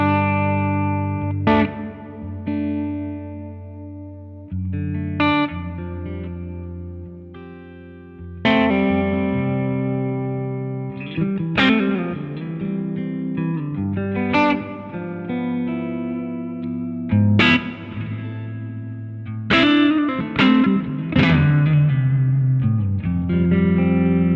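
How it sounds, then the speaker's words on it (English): Electric guitar chords and single notes through a Boss Tube Amp Expander hall reverb, with a long, spacious stereo reverb tail that lingers between strums. "Here's the plate reverb. Let's go for a hall."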